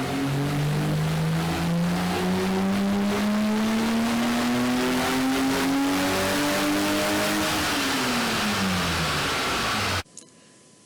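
A BMW E30 engine fitted with a Miller MAF kit revs on a dyno, a loud, steady drone climbing smoothly in pitch for several seconds, then dropping away before cutting off abruptly.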